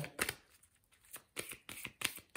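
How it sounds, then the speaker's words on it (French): Tarot cards are drawn one after another in faint, close, crisp slides and flicks. Each draw is separated by a short pause. "je vais tirer les cartes"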